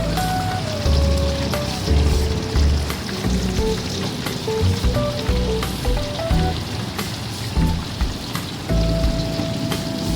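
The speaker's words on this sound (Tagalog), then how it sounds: "I-deep fry mo nga lang ito sa loob ng 15 minutes." Chicken deep-frying in hot oil gives a loud, dense, crackling sizzle with constant popping bubbles and occasional clinks, close up and without speech.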